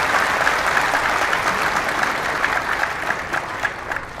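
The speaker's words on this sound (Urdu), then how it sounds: "یہ تو دکھ والی بات پہ تم نے تالیاں بجائی ہیں" An audience at a religious lecture breaks into sustained applause, dense and loud clapping throughout with small surges near the end and no talk over it.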